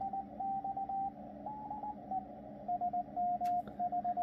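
Morse code CW received on a Yaesu FTDX101MP transceiver, a single steady tone keyed in short and long beeps with brief gaps, fairly faint over a low hiss of band noise.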